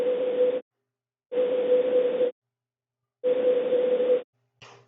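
White noise through a band-pass filter plays as three loud, steady hissing bursts of about a second each, separated by silent gaps, with a short fainter burst at the end.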